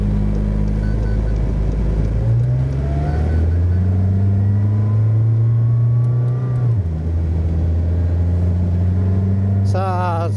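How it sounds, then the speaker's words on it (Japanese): A McLaren Senna supercar's 800 hp 4-litre V8 accelerates on the Estoril circuit, loud and close, its engine note climbing through a long pull, dropping at a shift, then rising again, with crackling revs near the end. "この800馬力の マクラーレンセナモデルをテストドライブしてます"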